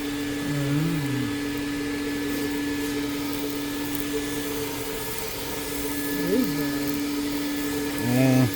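A Sky Vac gutter vacuum runs with a loud, steady motor whine while it sucks leaves and sticks from a clogged gutter. A voice briefly rises over the drone.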